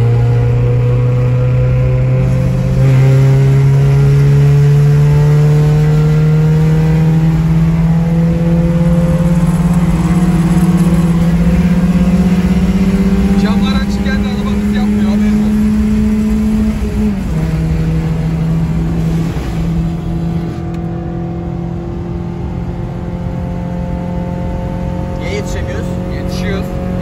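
Honda cars racing on a road, with a loud, close engine drone whose pitch climbs steadily through long acceleration runs, dips briefly at a gear change, then rises again, with talk underneath.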